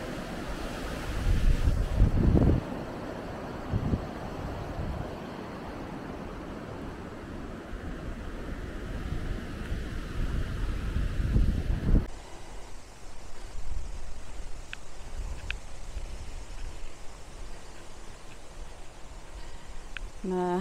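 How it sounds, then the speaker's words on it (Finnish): Strong wind blows outdoors during a walk, a steady roaring rush with buffeting against the microphone that shifts in character midway, with no talk. "Tuulee kovasti."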